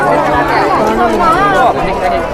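Devotees crowd the Barni Mela fair in Bokaro, a dense babble of chatter all around, with one nearby voice talking over it.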